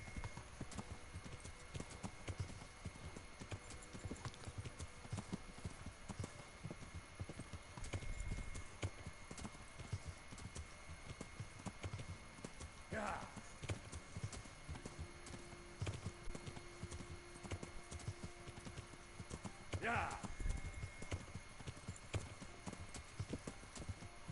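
A horse in the video game Kingdom Come: Deliverance gallops, its hoofbeats drumming in a fast, steady, fairly faint rhythm throughout, with a couple of brief higher tones cutting in.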